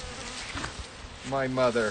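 Honey bees buzz in a steady insect drone while a colony is being split, growing louder toward the end with a person speaking briefly underneath.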